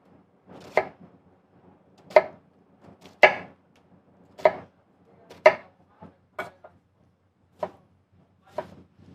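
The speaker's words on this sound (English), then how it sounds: "you just cut the onion horizontally, then you're gonna give a cut on the top" A kitchen knife dices an onion on a cutting board in sharp, separate chops, roughly one per second with a few quicker taps between, crisp and close, with no talking.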